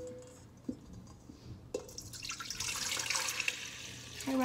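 Liquid jello poured into a mold for a layered jello dome, starting with faint drips and small knocks, then a louder continuous splashing pour rising through the second half, close by.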